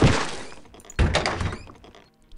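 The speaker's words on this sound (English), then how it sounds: "they always make a sound when they teleport in" Two heavy, crackling bursts of noise hit in succession as an enemy teleports in, a sudden electric whoosh, in the 1996 Gremlin Interactive game Realms of the Haunting.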